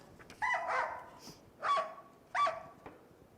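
A dog barks three times in separate, fairly loud yelps spaced about a second apart, with no talking over them.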